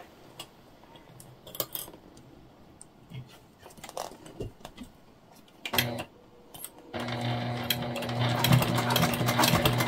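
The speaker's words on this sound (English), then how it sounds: "now we just sew on as we would any other binding" A sewing machine stitches binding onto a clear jelly vinyl hip bag, with short stop-start bursts of stitching and scattered handling knocks early on, then a louder continuous run of rapid mechanical stitching toward the end.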